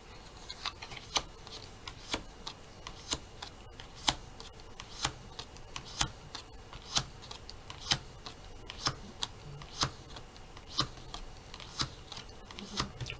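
Thirteen cards laid out one after another from a deck, making a series of crisp, evenly spaced taps roughly a second apart over a low, steady room background.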